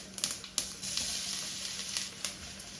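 Mustard seeds, fenugreek, green chili and garlic frying in hot oil for a rasam, a steady close sizzle with brief sputtering pops scattered through it.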